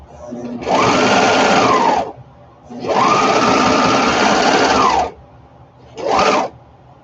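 A sewing machine chain pieces fabric, including curved seams, in three close, loud runs of steady rapid stitching: two long bursts and a short final one, with brief quiet gaps between.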